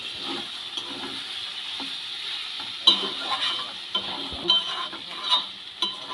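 A spoon scrapes and stirs chopped banana flower with garam masala and prawns in a hot pan for mochar ghonto, over a steady soft sizzle, with irregular clinks and scrapes growing more frequent toward the end.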